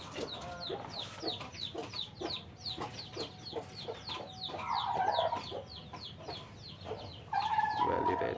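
Hobby chickens cluck close by in a repeated, steady series of short calls, with a few louder, drawn-out clucks breaking in toward the end.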